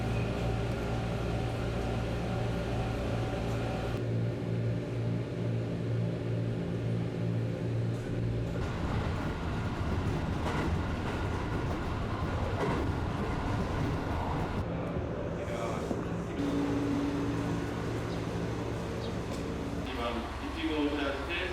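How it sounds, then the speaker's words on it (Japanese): A Japanese local train bound for Kotohira runs along with a steady low rumble and hum, heard from inside the carriage while an onboard voice makes announcements over it. "この列車は琴平行きの普通列車です"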